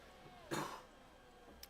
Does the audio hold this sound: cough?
yes